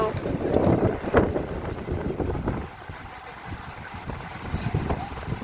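Gusting wind buffets the microphone on a Yellowstone hiking trail, loud rumbling bursts easing into a softer steady rush, with voices talking briefly.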